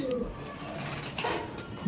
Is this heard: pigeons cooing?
yes